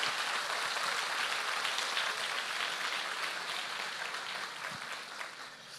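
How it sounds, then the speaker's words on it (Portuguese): A church congregation applauds during a Sunday service, a dense, steady wash of clapping that fills the room for several seconds and tapers slightly near the end, with no speech over it. "Você pode aplaudir o Senhor?"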